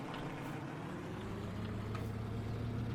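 A Mercedes-AMG car engine drones steadily at low pitch, holding a rising tone under full throttle across the whole stretch, moderately loud and continuous without talk.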